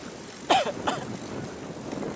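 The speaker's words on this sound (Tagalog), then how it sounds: "grabe na ubo ko rin sa usok ng motor." Two quick coughs close to the microphone during a bike ride near Mt. Arayat, Nueva Ecija, followed by faint outdoor background noise.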